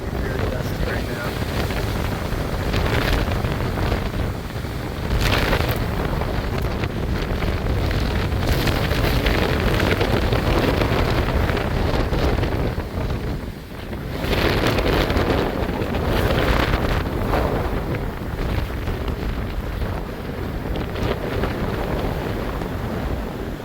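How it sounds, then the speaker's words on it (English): Strong gusty wind blasts across the microphone in dusty outdoor air during a severe thunderstorm outbreak, roaring continuously and loud with surging gusts of around 40 miles per hour and brief lulls. "Winds are picking up."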